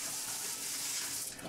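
Filtered tap water runs steadily into a kitchen sink as salad is washed, a continuous soft hiss that stays even and close for the whole moment.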